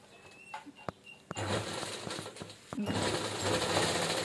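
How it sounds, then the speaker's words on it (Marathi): A sewing machine stitches a cloth tiffin bag in two bursts of rapid, even mechanical chatter, the first starting after a few soft clicks and the second following a short break with a sharp click. "आता खालच्या बाजूने आपण अशी शिलाई देऊन घेणार आहोत."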